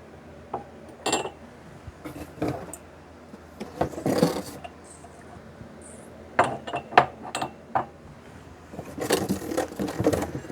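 Glass canning jars being washed and handled at a kitchen sink for peach jelly, with scattered clinks, knocks and rubbing in irregular bursts, some sharp and close, between quieter pauses.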